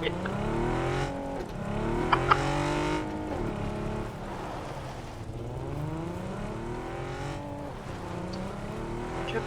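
Car engine revving and shifting through gears while driving in the battle-royale video game PUBG, loud and continuous with rising and falling pitch sweeps, a few tire-squeal bursts, and speech layered over it.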